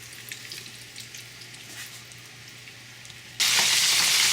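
Chicken fries deep frying in oil, a soft continuous sizzle that suddenly turns into a much louder, bright rushing hiss for the last second.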